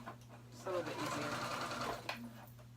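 A sewing machine runs a long basting stitch on a child's hoodie in one short, quiet burst of whirring, with a voice speaking softly around it.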